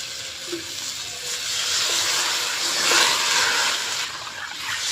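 Water is poured into a pan of frying fish and potato curry, producing a steady hiss and sizzle that swells midway, with faint bubbling and no talk.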